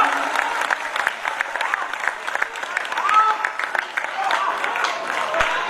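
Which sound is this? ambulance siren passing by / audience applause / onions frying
audience applause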